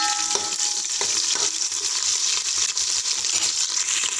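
Onions and green chillies hit hot oil and fry with a loud, steady crackling sizzle, punctuated by a few stirring scrapes and clinks close by.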